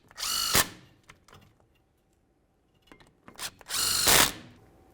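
A power drill or impact tool runs in two loud bursts, tightening brake caliper slider pins on a 2001-2006 Chevrolet Silverado 2500 HD, with quieter metallic clicks and handling noises between the bursts.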